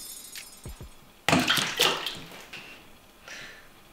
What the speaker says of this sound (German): Und dann lasse ich die Zwiebel einfach fallen.